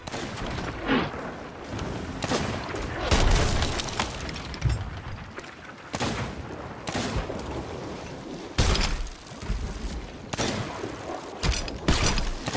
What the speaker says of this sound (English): I'm being sniped at.